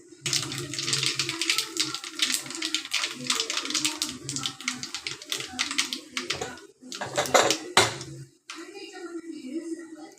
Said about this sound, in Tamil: கொஞ்சம் போல் கடுகு பொரிஞ்சு வரட்டும்.